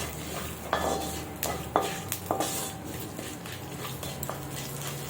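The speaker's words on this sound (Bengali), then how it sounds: "তো এটা আমি ভাজতে দেব" Whole cumin and fennel seeds frying in a pan, with a few clinks of a spoon or utensil against the cookware over a faint, steady background hiss, no voices.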